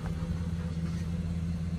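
A 1990 Cadillac Brougham on 24-inch wheels idles close by, a steady low rumbling engine hum holding even throughout with no talk.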